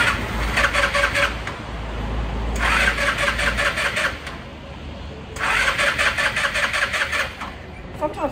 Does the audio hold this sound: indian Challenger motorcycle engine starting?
yes